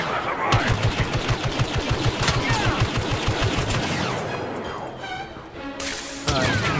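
Rapid bursts of blaster-style gunfire from the Star Wars Battlefront video game, dense and continuous for several seconds, then tapering into scattered shots and in-game effects.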